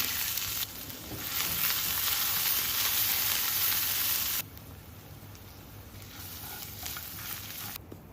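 Garlic cloves, cumin, mustard seeds and green masala sizzle loudly in hot oil, a dense close crackle that surges and then drops to a softer, steady fizz.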